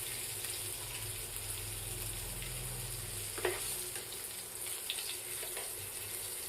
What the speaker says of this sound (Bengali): তেজপাতা ও লঙ্কা একটু লাল লাল হয়ে গেলে কালো জিরের ফোড়ন দিতে হবে